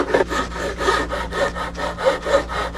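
Metal fret ends on an Ortega mandolin being filed with simple hand tools, a steady back-and-forth rasping stroke repeating about four times per second, close and fairly loud with no talking.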